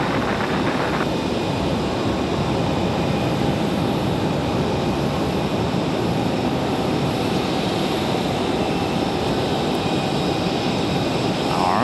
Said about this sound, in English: Be a gentle touchdown for that A321